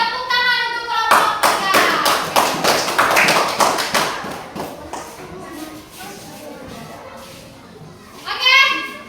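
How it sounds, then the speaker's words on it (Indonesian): Children in a group classroom session burst into fast, dense clapping for one group, loud and close for a few seconds before thinning out, with children's voices chattering throughout. "tepuk tangan untuk kelompok"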